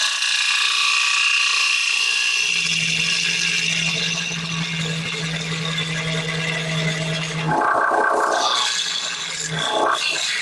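A wood lathe turns a beehive-shaped yarn bowl while a heavy cut produces a loud, steady whirring hum with a chattering tool rattle, shifting in pitch as the cut changes.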